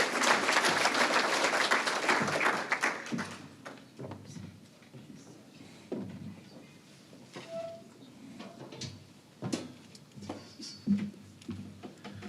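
Applause at an awards luncheon honoring a police sergeant, loud clapping for about three seconds that dies away into room noise, shuffling and a few distant voices.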